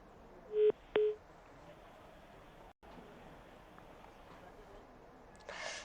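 Phone call to a live TV stock-market show that fails to connect: two short dialing-style tones near the start, then a long faint hiss of an open line with a brief dropout.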